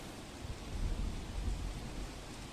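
Steady, dense rain roars close by at night in Surat district, a heavy continuous downpour with low rumbling weight and no voices.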